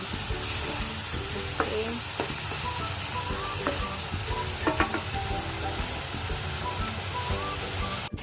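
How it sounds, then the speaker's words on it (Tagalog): Onions sautéing in a pan for mac and cheese, a steady loud sizzle with occasional utensil scrapes and clicks as they are stirred, close up, with a brief word spoken. "Haluin lang natin siya, guys. Yan. Para yung sibuyas hindi siya masunog."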